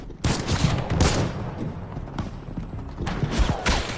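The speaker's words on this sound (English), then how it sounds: "Sniper fire!" Repeated gunfire in a World War II-themed Fortnite game scene, dense bursts of shots cracking loudly and continuously throughout, with no pauses.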